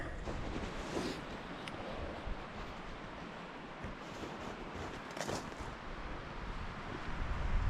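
Strong wind whipping through a stand of trees in the woods, a steady broadband rush with gusts swelling and easing, loud and close to the microphone.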